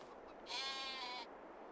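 Sheep in the Farming Simulator 22 video game give a single clear bleat lasting under a second, standing out above a quiet background.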